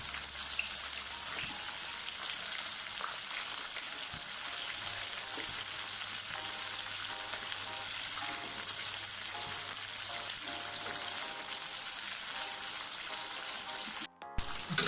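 Chicken strips sizzling and crackling steadily in hot oil as they are turned over, a dense continuous fry with small pops, close and fairly loud, ending with a brief clatter.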